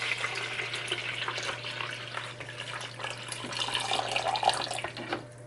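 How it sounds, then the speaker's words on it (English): Water is poured into the water well of a drip coffee maker, a steady, quiet splashing trickle that runs on without a break over a faint, constant low hum. "open up the well, the water well, and you fill it up"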